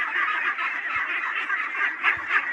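A large flock of young ducklings quacking together, a dense continuous chorus of overlapping calls, close and fairly loud.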